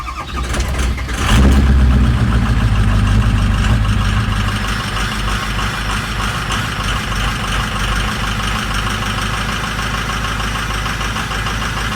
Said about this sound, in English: And I'm also gonna get you a cold start.